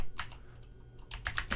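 Keys clatter on a computer keyboard, a short burst of quiet close clicks at the start and another quick cluster near the end, over low room hum.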